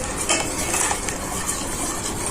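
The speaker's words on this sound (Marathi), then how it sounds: "आता आपण यात दूध ऍड करणार आहोत आणि गुठळी होऊ नये म्हणून आपण एकसारखं हलवत राहायचं आहे" Custard powder being stirred continuously into boiling milk in a pot for fruit custard, a steady close hiss and bubble with brisk stirring and faint utensil clinks against the pan, no voices.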